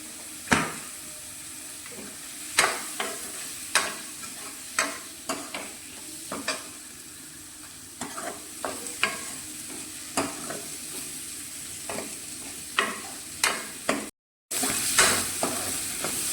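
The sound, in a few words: paneer being roasted and stirred in a pan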